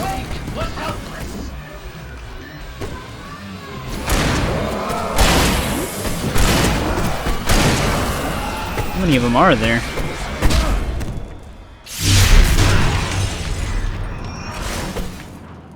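Fireworks bursting in the video game Alan Wake Remastered, with repeated loud booms and crackling blasts that come in waves, mixed with game noise while someone speaks briefly.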